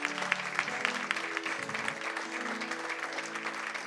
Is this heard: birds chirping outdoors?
no